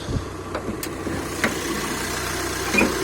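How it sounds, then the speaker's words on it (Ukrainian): A Volkswagen Crafter van's diesel engine idles steadily with a low, knocking rumble and a few faint clicks over the top, heard up close with no talking. "Подивіться, як повинен працювати мотор."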